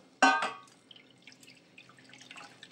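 Water squeezed from a handful of washed bottle gourd leaves lands in one sudden splash, followed by faint, scattered drips trickling into a container nearby.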